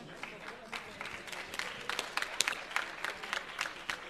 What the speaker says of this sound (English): let's have a nice round of applause for both fighters,